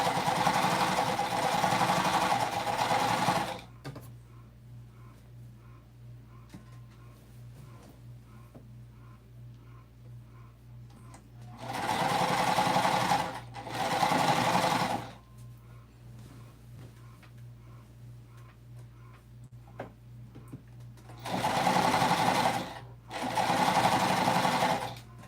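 A sewing machine stitches a Minky blanket in three bursts of steady, rapid mechanical whirring. Each burst runs a few seconds, with quiet pauses between them in a calm room.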